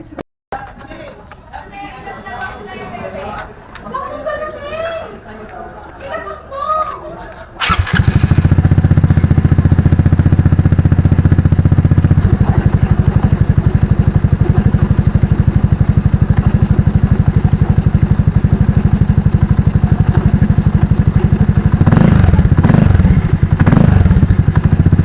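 An Easyride 150fi motorcycle fitted with an Akrapovic pipe and silencer idles loudly and close, a deep steady throb with brief revs near the end, after a quieter stretch of faint voices and handling noise.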